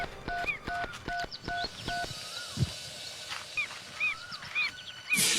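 Short electronic keypad tones from a mobile phone as a number is dialed, a quick series of evenly spaced beeps, with faint background chirps and a brief thump.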